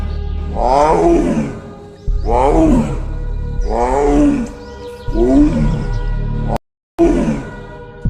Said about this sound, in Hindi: फिर सुनाई देता है बाघ की दहड़।